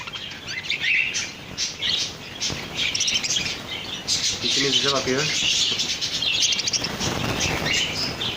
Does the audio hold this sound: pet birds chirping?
yes